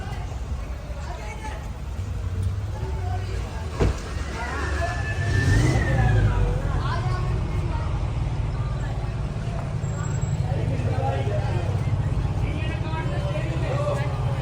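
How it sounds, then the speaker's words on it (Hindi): Cars, buses and trucks sit idling in a long, dense road traffic jam, with a steady low engine rumble, an engine revving up, and scattered horns and street noise; someone talks over the traffic throughout. "घना लंबा जाम है"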